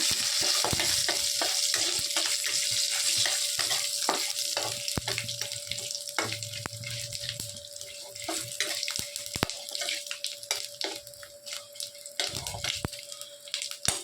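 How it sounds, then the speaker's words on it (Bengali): Bay leaves, torn dried chilli and Bengali five-spice sizzle in hot oil while cooking pumpkin-leaf chorchori: a steady, close crackle with occasional sharp spits and stirring clinks, no talking. "তেলের মধ্যে দিয়ে দিচ্ছি 2টো তেজপাতা, একটা শুকনো লঙ্কা ছিঁড়ে, আর 5 ফোড়ন"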